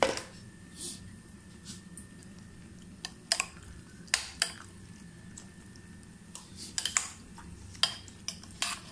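A spoon mixes yogurt in a dish for mutton biryani, with scattered clinks against the bowl and soft squishy stirring that comes in irregular bursts, close up over a quiet background.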